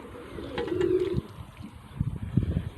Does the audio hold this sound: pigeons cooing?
yes